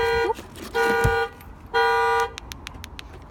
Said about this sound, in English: That was exciting. I set the alarm off.